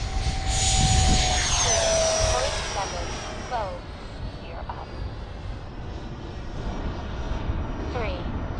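A Freewing Avanti RC jet with a 1920kV motor on 8s flies past at full throttle, a loud whining ducted-fan roar that fades as it passes, with people talking nearby.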